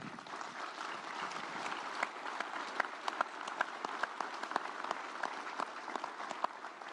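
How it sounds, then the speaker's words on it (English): An audience at a public event bursts into sustained applause, steady dense clapping with no voices over it. "He's worth applauding."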